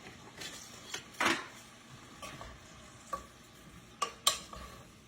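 Green beans cook in bacon grease in a pan, with a faint continuous sizzle broken by a handful of scattered scrapes and light clinks of a utensil, fairly quiet overall.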